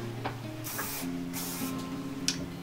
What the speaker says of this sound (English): I use my hairspray now.